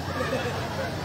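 A man in a lively Indonesian sermon imitates a horse's neigh with his voice, a short, loud whinny over a busy, reverberant room.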